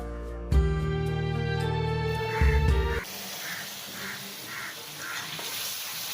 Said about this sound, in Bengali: সব কিছু দিয়ে খুব ভালো করে কষিয়ে নিতে হবে